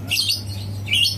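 A young Javan pied myna chick gives repeated shrill, high chirping calls in two close bursts, loud and near, over a steady low electrical hum.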